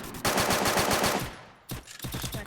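Video game machine-gun fire rattles out in rapid, loud bursts during a match, with a long burst, a brief pause, then another quick burst of shots.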